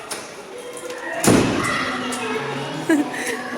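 A door slammed shut in a home, a single heavy thud about a third of the way in, with a fainter knock later, as people talk and murmur nearby.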